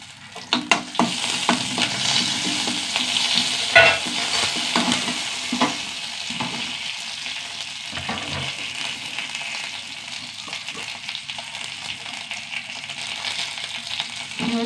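Curry leaves and dried red chillies dropped into hot oil in a pan, a loud steady sizzle and crackle with a few sharp spits and stirring scrapes early on, then an even frying hiss.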